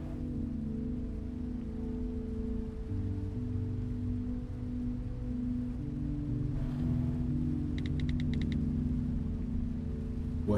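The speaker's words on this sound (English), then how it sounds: "Let's just enjoy the rain and go." Steady rain falls in the pixel-art game How We Know We are Alive, a constant soft patter over a low droning music bed, with a brief chime-like flutter near the end and no talking.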